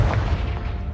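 Confringo blast spell cast in the Hogwarts Legacy video game, a short low booming burst that opens strongly and rumbles off over under a second, with no talk.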